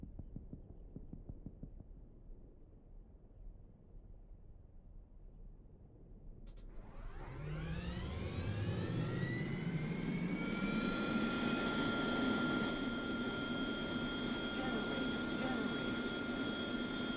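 Aircraft engine start-up in the DCS flight simulator: quiet clicks and a low hum, then a jet turbine spools up with a rising whine that settles into a loud, steady roar.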